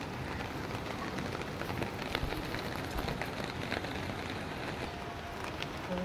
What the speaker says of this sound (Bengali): কাস্টমার বাড়িতে বৃষ্টির মধ্যে আমরা কাজ করছি